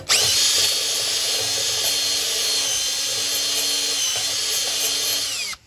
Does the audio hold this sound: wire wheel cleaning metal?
yes